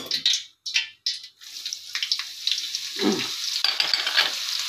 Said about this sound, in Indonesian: ini aja sekarang saya goreng cabenya